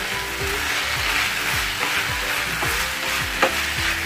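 Chicken masala filling for kathi rolls stirred and tossed in a hot pan, with steady close scraping and a dense sizzle throughout and a sharper clack near the end.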